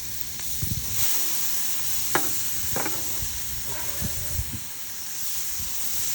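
Vegetables for fried rice sautéing in a pan, a steady sizzle and hiss with a few scraping stirs and clinks, close by and with no talk.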